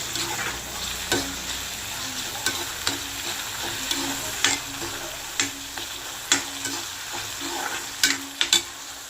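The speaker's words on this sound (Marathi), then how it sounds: "मूगडाळ पण टोमॅटोसोबतच परतून घ्यायचे" Moong dal and tomatoes are sautéed in a pan, giving a steady sizzle broken by repeated sharp spatula scrapes and knocks at an uneven rhythm, close and alone without voices.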